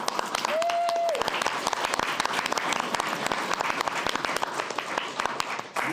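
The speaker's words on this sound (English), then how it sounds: "I'd just like them to stand and receive a round of applause" Applause at a City of Oldsmar council meeting for the Ordinance Review Committee members, a steady patter of many hands in a room, moderately loud, with a brief whistle-like tone near the start.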